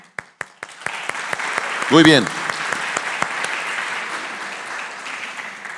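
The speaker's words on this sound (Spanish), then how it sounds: "Dese un aplauso." A burst of clapping rises under someone speaking, swelling into brisk applause from a crowd that continues steadily behind his voice.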